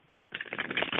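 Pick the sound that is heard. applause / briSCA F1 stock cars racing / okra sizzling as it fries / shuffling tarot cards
shuffling tarot cards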